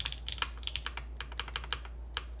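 Quick irregular keystrokes clack on a KV1-65 mechanical keyboard fitted with new keycaps, crisp and close, with no voice over them.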